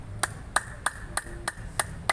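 Hand clapping in a slow, even rhythm, seven crisp claps spaced about a third of a second apart, fairly quiet with a slight ringing edge and nothing else around them.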